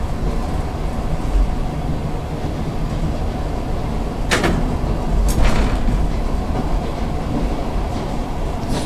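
An ED9M electric commuter train departing Tazhipol platform on the Svir to Petrozavodsk run, a steady loud rumble of wheels and motors with two sharp hissing bursts midway, no voices.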